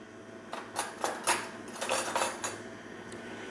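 Metal spoon and utensils clattering against dishes in a kitchen while muffin batter is being prepared, a handful of sharp clinks and scrapes spread over a few seconds, close and moderately loud with no talking.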